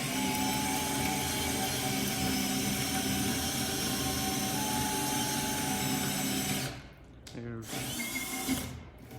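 A power drill with a self-feed bit runs steadily and loudly for several seconds, grinding through a wooden log, then cuts out abruptly and sputters briefly before stopping.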